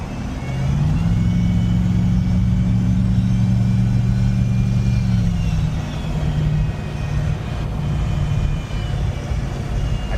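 A twin-turbo Chevrolet C10 truck with Holley Terminator X engine management accelerates onto a freeway, its engine drone droning steadily and loudly from inside the cab, pitch holding then shifting midway as it pulls on, with road noise beneath.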